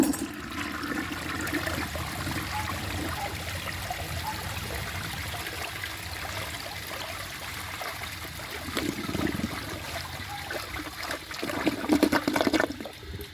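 A 1968 Montgomery Ward Waco toilet flushes, a continuous rushing swirl of water close by that swells louder toward the end as the bowl drains.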